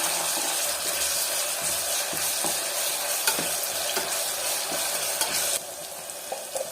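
Ginger garlic paste is stirred into mutton liver in a hot pan, with a loud continuous sizzle and frying hiss close by and faint spatula scrapes throughout, no talking.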